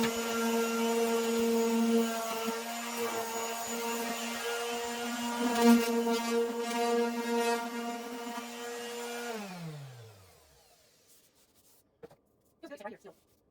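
A power sander working over damaged laminate cabinets with 320-grit paper, a steady loud motor hum with a strong tone that winds down and stops near the end, followed by a few brief clacks.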